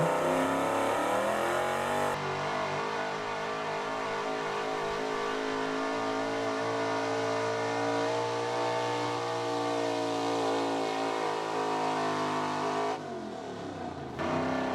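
A 1979 Ford F-250 4x4 with a big-block engine makes a truck pull run, its engine roaring loud and steady for most of the stretch, with a rising shift early on and the pull dropping off near the end.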